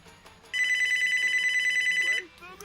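A telephone rings in a continuous electronic trill for nearly two seconds, loud and close, with an unknown caller on the line. Faint background noise comes before and after, and there is no talk.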